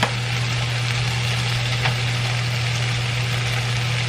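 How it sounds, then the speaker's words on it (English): Butter sizzles steadily in a hot pan while cooking shrimp fajitas, a continuous loud frying hiss with a low steady hum underneath, no talking. "I'm gonna throw just a little bit more butter in there."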